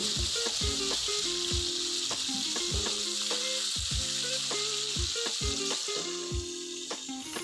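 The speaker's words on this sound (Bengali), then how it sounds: "প্রথমে আমি ফুলকপিগুলোকে ভেজে নিচ্ছি।" Cauliflower florets frying in hot oil give a steady close sizzle with repeated clinks and scrapes of a stirring utensil against the pan.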